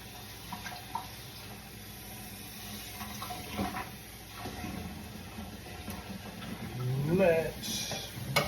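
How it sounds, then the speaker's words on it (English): Water running and splashing as a pan is rinsed out during home brewing, a steady background flow rising into a louder gush near the end, with a voice talking over it. "I forgot to rinse my pan out,"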